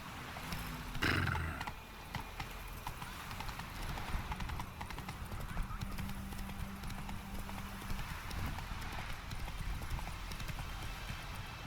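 Geralt's horse Roach from The Witcher 3 moving along, a steady run of hoofbeats over a dense game soundscape with a brief sharp burst early on, no voices.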